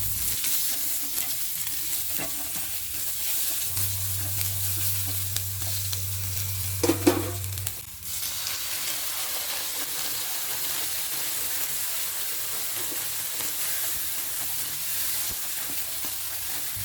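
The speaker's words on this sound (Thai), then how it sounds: "เราก็ใส่ถั่วลันเตาลงไปเลยค่ะ" Snow peas and shrimp stir-fried in a pan, a steady loud sizzle with occasional scraping and tossing noises and a brief clatter midway, close and continuous, no voices.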